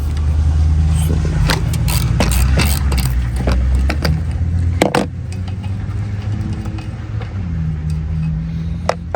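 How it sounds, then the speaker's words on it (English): A 15mm socket and ratchet work the wiper arm nut on a Ford Escape, with a run of quick metallic clicks and clinks, close and fairly loud, over a low hum and scattered knocks. "in order to remove, we need to use 15mm socket and ratchet"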